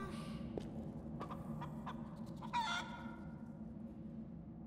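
Fowl sounds from a chicken in the Pathfinder: Wrath of the Righteous video game: scattered short clucks and a brief louder burst of calls over a steady low ambient bed of game music and background.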